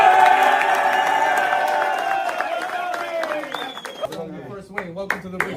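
Crowd at a Giants–Padres baseball game cheering and applauding for Tony Vitello's first win as manager, a broad roar that fades as claps thin out, with someone talking over it toward the end.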